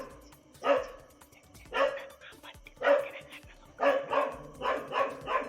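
A dog in a residential area near Kuthiran, Thrissur, where a wild elephant had strayed, barks in about six loud, close bursts, some doubled, with short pauses between them and no voices.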